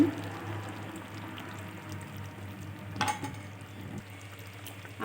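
Ghee drizzled over a raw banana kofta curry in a pan, a soft continuous sizzle and bubbling with a brief louder splash midway, close and fairly quiet.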